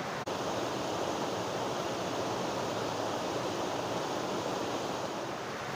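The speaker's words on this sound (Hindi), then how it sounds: "तो वहाँ से पानी गिरने का आवाज़ भी बहुत साउंड दे रहा है।" Choting Waterfall in Ziro, Arunachal Pradesh, roars as a constant, dense rush of falling water, loud and steady with no pauses.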